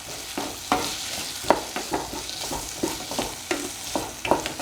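Ginger and potato stew cooking in a pan is stirred briskly, a rhythmic run of spoon scrapes and clanks over continuous sizzling, close and steady for several seconds without talk.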